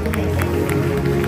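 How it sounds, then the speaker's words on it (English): Church congregation clapping for their pastor, a dense run of rhythmic hand claps over organ or keyboard tones, with crowd noise that stays continuous and moderately loud through the clip. "Clap your hands for this amazing pastor"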